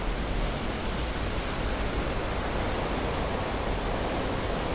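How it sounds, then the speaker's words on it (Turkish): Palovit Waterfall in Turkey's Eastern Black Sea forest region gives a steady, dense roar of falling water, even and unbroken throughout with no voices. "Paloviç Şelalesi. Çok güzel."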